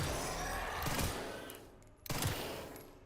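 Gunfire in the video game Resident Evil Requiem: two loud, close bursts of noise, each followed by a rumbling tail, set against a dense, continuous background roar.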